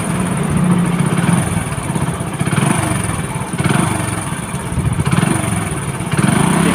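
A Hero Passion Pro motorcycle engine idles after a nano-technology engine treatment, a loud, close, steady mechanical chug with slight rhythmic rises and falls, with no talking.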